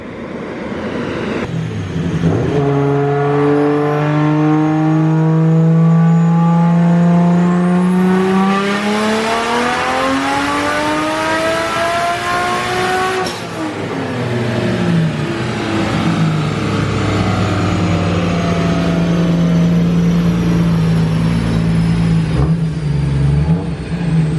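Nissan Skyline engine on a dyno pull, revving steadily upward from low to near redline over about ten seconds, then cutting off and settling back to a loud, rough idle.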